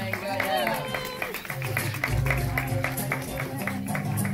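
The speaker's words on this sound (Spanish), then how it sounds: "le mando un fornido aplauso de despedida a nuestra amiga" Farewell applause from an audience at an exotic bird show, with steady clapping mixed with crowd noise and babble, continuing throughout under a busy background.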